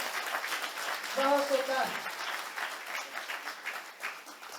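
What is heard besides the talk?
audience applause at a school event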